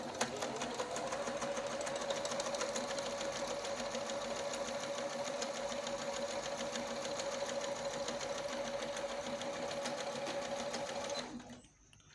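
A Singer Patrino 2510 sewing machine runs on its automatic setting in a steady, close, continuous whir with a constant tone, alone without talk, then winds down and stops at the end.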